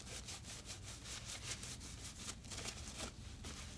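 A cloth wipes down a firearm's recoil spring, giving a steady, close, dry rubbing and scrubbing sound with rapid repeated strokes and no talk.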